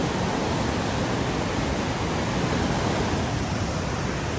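Two mountain streams meeting at Dumail in Kashmir make a constant, dense rushing roar, steady and loud throughout with no pauses or voices.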